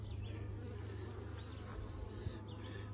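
Honey bees buzz around an open hive in a nucleus colony, a close, continuous hum with individual insects passing near at moments, no talking over it.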